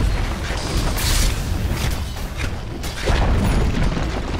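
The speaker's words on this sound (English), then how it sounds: "Dire's middle tower has fallen." A Dota 2 tower crumbling in the game, with booming impacts and grinding mechanical crashes rolling on for several seconds, loud and dense, the blasts swelling near the start and again late.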